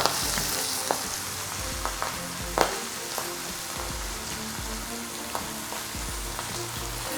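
Corn sizzles and crackles steadily in a hot pan, seasoned with Louisiana hot sauce and lemon as it chars black, with scattered pops and stirring clicks over a continuous frying hiss; no one speaks.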